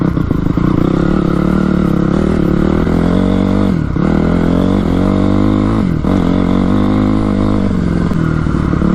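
A small carbureted dirt bike engine revving hard and steady, close by, its pitch briefly dipping twice before climbing back up.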